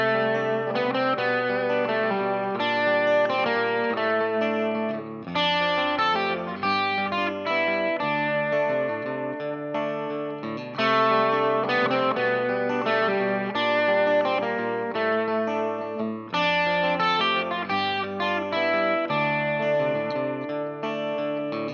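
Lead electric guitar plays a blues-scale lick in D, with distorted, effects-laden tone and chorus-like shimmer; a steady run of sustained, overlapping phrases fills the clip, loud and close, with no talking.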